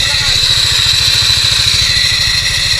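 A failing motorcycle CVT transmission clatters with a fast, even mechanical rhythm over a running engine, loud and continuous, with a voice speaking over it.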